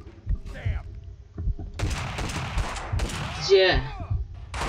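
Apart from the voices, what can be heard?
gunfire in the video game Max Payne 2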